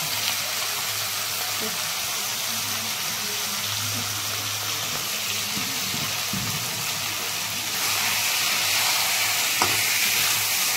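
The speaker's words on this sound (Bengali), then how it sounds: "আমি ধনের পাতার পেস্টটা দিয়ে আবার আমি কষিয়ে নেব" Chicken sizzles and fries in a pan with coriander leaf paste, a constant bright crackle under occasional stirring, with a brief shift in intensity partway through.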